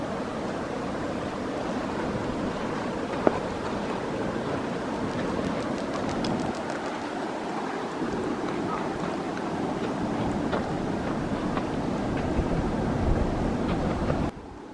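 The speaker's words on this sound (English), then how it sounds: "You can hear the river down there maybe." A river heard far below from Emmons Vista, near Emmons Glacier, as a steady broad rushing wash that carries on throughout with no break, with faint scattered small sounds on top.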